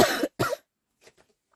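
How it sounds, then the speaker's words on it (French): A woman coughs twice in quick succession, close and fairly loud, followed by a few faint, soft sounds trailing off into near silence. "Je suis désolée, je tousse."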